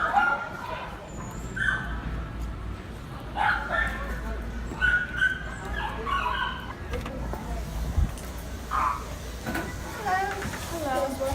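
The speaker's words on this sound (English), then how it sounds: "Oh, that's a big ass dog." A large dog at a pet store gives yips, whimpers and short barks at middling distance, coming in irregular bursts over a steady low store hum while people talk nearby.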